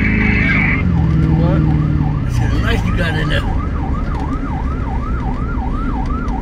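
Fire rescue vehicle siren wailing close and loud while responding code 3 to a structure fire, rising and falling cycles with a brief yelp burst, someone speaking briefly over it.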